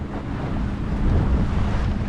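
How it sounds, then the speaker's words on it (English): Strong wind buffeting the microphone aboard a sailboat in Portland Harbor, Maine, in autumn, a loud continuous low rumble with no pauses. "We just had a big gust of wind picked up."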